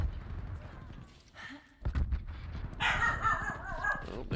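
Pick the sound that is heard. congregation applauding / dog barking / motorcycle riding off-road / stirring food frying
dog barking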